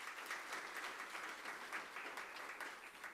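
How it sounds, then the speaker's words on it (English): Steady applause from a university conference audience, continuous dense clapping throughout at moderate distance, with no talk over it. "I also request that you give him a round of applause."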